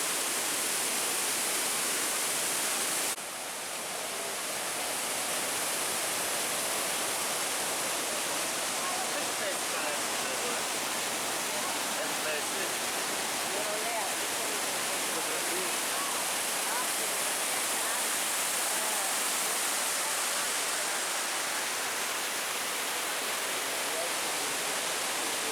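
Broad, steady rushing roar of the Edessa waterfall in Greece, heard from close by, filling the whole clip without a break and without any voices.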